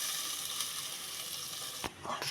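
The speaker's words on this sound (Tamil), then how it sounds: "இப்போ அது வந்து லைட்டாக கொதிக்க ஆரம்பிச்சிருச்சு." Paneer butter masala gravy with ground paste added bubbles and sizzles in a pan on the stove, a continuous close hiss with a soft stir or spoon knock near the end.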